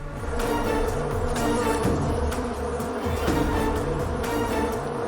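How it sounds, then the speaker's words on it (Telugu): Dense, loud buzzing of many bees swarming close by, a continuous droning hum with wavering pitch sweeps throughout. "మీరు పంపిన తేనెటీగలు మన వైపే వస్తున్నాయి"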